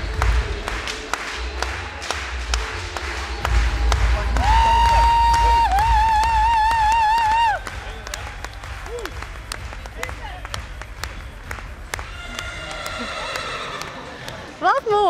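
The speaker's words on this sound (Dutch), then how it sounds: "Laat uw handen warm worden van het applaus" Audience applause at a stallion inspection, with dense, steady clapping that swells through the middle and then eases, mixed with voices, whistle-like tones and scattered crowd noise.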